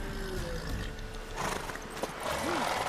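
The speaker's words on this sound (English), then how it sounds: "Worthy of the best horse. The mare is yours." A mare in The Witcher 3 is heard through soft hoof clip-clops and low snorts under a busy game ambience, then a short whinny near the end, moderately faint and close.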